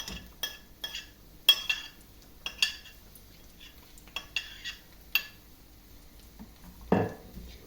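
Panch phoron spices fry in a pan as garlic and chillies cook, with a soft sizzle beneath repeated metallic clinks and scrapes of a spoon stirring against the pan, close and fairly quiet.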